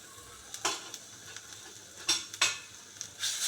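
Cumin and grated garlic sautéed in butter in a pan, a soft steady sizzle broken by several sharp scraping stirs and utensil clinks at close range, with no talking.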